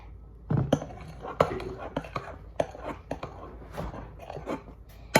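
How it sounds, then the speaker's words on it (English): A spoon stirs pink shaving cream slime in a bowl, making a run of irregular, close-up clicks, taps and soft squelches with no one speaking. "Next, you stir it up."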